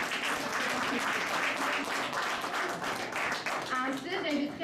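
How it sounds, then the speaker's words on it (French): An audience at a community meeting breaks into brisk applause and clapping, dense and close for a few seconds, before a voice starts speaking near the end. "On l'applaudit."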